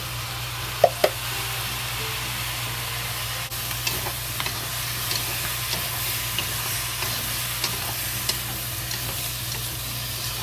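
Peppers and onions fry in a pan for pineapple pork, giving a steady, close sizzle with occasional knocks and scrapes from stirring.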